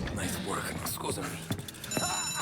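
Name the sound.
alarm ringing in Mafia Definitive Edition video game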